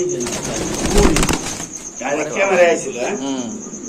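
Domestic pigeons, including yellow Bukhara birds, cooing in a crowded loft where some sit on eggs; soft rolling coos rise and fall under people talking nearby.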